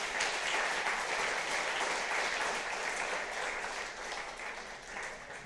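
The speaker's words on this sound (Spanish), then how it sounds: "Por favor, denle un aplauso al Señor por eso." A church congregation bursts into sustained applause, a dense, steady wash of clapping that stays loud throughout and eases slightly toward the end, with no voices rising above it.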